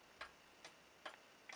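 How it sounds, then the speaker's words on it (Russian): A wooden-cased pendulum cuckoo clock with painted weights ticks softly and steadily, four faint, evenly spaced clicks over a quiet background with no voices. "Часы-маяк с кукушкой."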